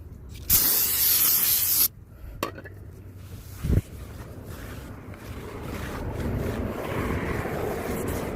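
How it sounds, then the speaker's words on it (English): Brake cleaner sprays onto a Hyundai Santa Fe brake rotor in a loud, steady hiss lasting over a second, followed by two short spurts and then a softer background hiss. "clean this rotor with a brake cleaner. And you'll do the back as well."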